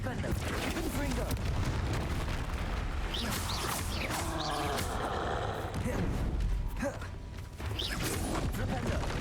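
Confringo spell blasts crackle and boom during a troll fight in Hogwarts Legacy, layered in a dense, loud din of combat effects and music. A voice shouts spell names over the noise.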